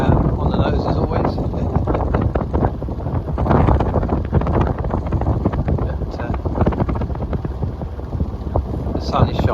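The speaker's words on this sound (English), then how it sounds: "A bit windy, on the nose as always." Strong wind buffets a sailing yacht entering Bangor Marina, a loud, continuous roar with gusty rumble and microphone buffeting that covers the whole stretch.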